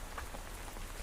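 Gentle rain patters steadily on a surface, a soft continuous hiss of fine drops with no voices, even in loudness throughout the short stretch.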